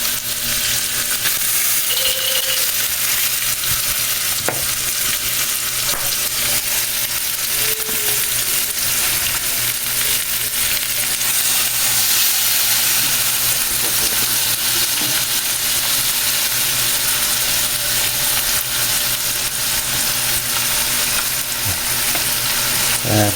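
Fish frying in a pan at home makes a loud, continuous sizzle and crackle that holds steady throughout, with occasional small clinks of a utensil and no talking.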